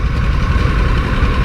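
A 2022 Harley-Davidson Nightster motorcycle engine runs loud and close, a dense, steady mechanical rumble with no talk over it.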